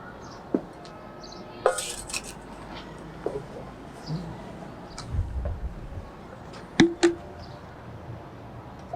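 Scattered metallic clinks and knocks of a water-filled pot being set down on an induction cooker, sharp, sparse taps spread over several seconds with low background hum.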